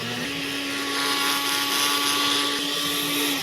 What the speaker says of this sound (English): I'm gonna put the top on the blender. Okay. Again, this is where we'll blend.